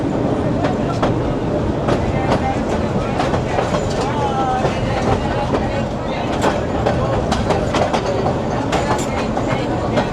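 Bangladeshi local train from Narayanganj pulling into the small Chashara station, heard from on board as a loud continuous rumble with rhythmic clickety-clack and sharp metallic clanks, with some voices in the background.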